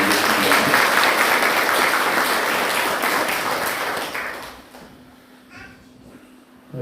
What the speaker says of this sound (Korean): 한번 박수로 전해드리겠습니다.